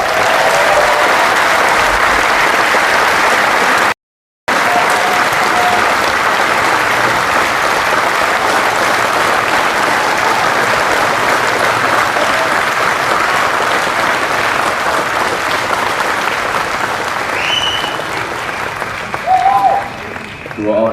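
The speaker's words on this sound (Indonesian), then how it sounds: "saya pengen minta tepuk tangan yang paling meriah kepada dua ketua umum kita" A large audience at a political party gathering in Indonesia breaks into loud, sustained applause that runs without pause for about twenty seconds, thinning slightly with a few scattered cheers toward the end.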